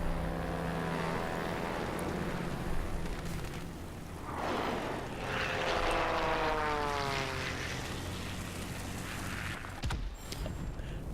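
Spitfire V propeller fighter with a DB 605 engine in World of Warplanes, a steady droning engine roar throughout with rising and falling whine as the plane maneuvers, no talking.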